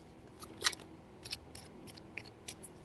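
Tarot cards shuffled by hand in three short bursts, quiet crisp snaps and riffles with small gaps between them in a hushed room.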